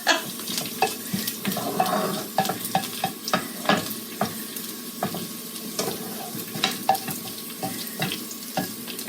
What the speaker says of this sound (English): the sizzling sound is actually the water coming out of the herbs.